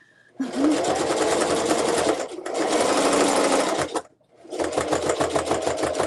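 An electric sewing machine stitching a zipper tote bag runs in three steady, close, loud bursts with brief pauses between them.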